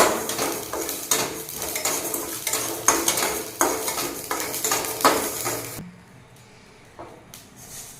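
Mustard seeds spluttering in hot oil, popping in a dense, continuous crackle of sharp little bursts for about six seconds before the noise drops off abruptly, leaving a few faint, scattered clicks.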